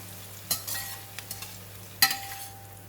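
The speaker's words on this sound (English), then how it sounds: "We're going to fry onions until it becomes soft." Onions frying in a pan for an onion omelette, with a steady low sizzle and two sharp scraping stirs about a second and a half apart, plus a few small clicks, close and alone.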